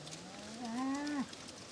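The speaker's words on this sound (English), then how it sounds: "She's a big cow. I think she's a Belgian blue, to be honest." A Belgian Blue dairy cow moos once at a West Wales grazing farm, a single rising and falling call about half a second long, clear and fairly close against a quiet background.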